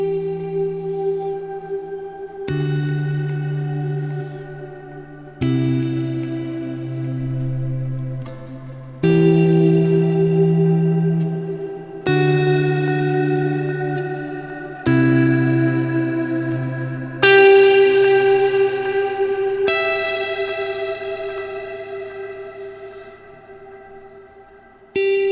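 Fender Jazzmaster electric guitar through a Quad Cortex Vox patch set for an ambient clean tone, with strummed chords ringing out every few seconds under lush chorus, reverb and echo, warm and close, no voices.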